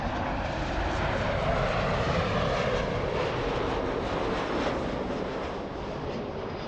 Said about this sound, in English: It's the plane that sounds like a plane.